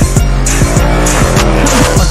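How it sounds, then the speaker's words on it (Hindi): A motorcycle does a rolling stop stunt on a road with police nearby, the rear tire skidding in a loud, harsh squeal over a continuous engine roar, close and steady throughout. "तो यहाँ पे एक रोलिंग स्टॉप में मारते हैं"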